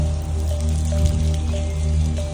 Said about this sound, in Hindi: ये देखो भाई सब देखते देखते बहुत तेज बारिश होने लगी, और पता है भाई सब पत्थर भी गिर रहे हैं भाई।